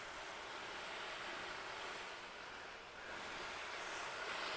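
Water sprayed onto an Outsunny tent to simulate a heavy downpour: a steady, hissing rush of spray drumming on fabric, continuous and even, with no voices.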